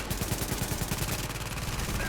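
A gun turret in the game The Division fires a rapid, continuous stream of shots, with dense, rattling bursts throughout amid chaotic combat noise.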